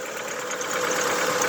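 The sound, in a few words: 1989 Dodge Dakota 2.5 four-cylinder engine idling with a misfire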